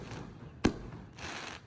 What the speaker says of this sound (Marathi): यांनी ऑलमोस्ट 2 तास कंटिन्यू फटाके लावले होते.